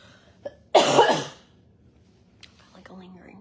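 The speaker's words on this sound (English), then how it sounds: "like a lingering cough" A single harsh, breathy cough lasting about half a second, close and fairly loud, followed by quiet room noise and faint movement.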